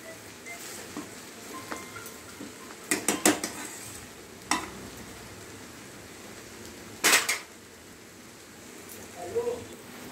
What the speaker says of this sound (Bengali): আমি জাস্ট একটু নেড়ে চেড়ে দিচ্ছি।